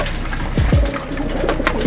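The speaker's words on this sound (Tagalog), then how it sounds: "Ayan sila, kukulit, nag-aaway po, mga kalapati." Pigeons coo while feeding and squabbling over scattered food, a few low swooping coos close by over a busy background rustle.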